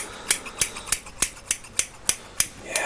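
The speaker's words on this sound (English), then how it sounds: "We're gonna start off with my big chunky scissors." Big chunky barber scissors snip crisply about nine times at an even pace during a roleplay haircut, close and clear against a quiet background.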